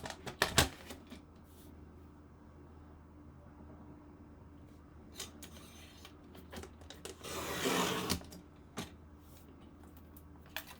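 Paper layout piece with adhesive backing being cut, with a sharp snap near the start, scattered soft handling taps, and a longer rasping cut in the middle, close and moderately loud without talking.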